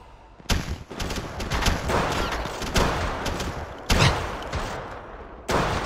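Gunfire in the Apex Legends video game: loud bursts of shots that come in a few separate volleys with short gaps between them, alone and with no talking.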